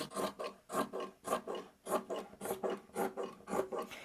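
Quilt fabric edges being trimmed, a steady run of about a dozen quiet, rhythmic rasping cuts, close and evenly paced, with no voices.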